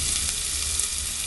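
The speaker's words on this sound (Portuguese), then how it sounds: "Vou fritar bem pouquinho, gente, porque depois vai cozinhar tudo" Bell pepper and onion fry in a pan with a short, even, close sizzle and a faint stirring touch, no voices.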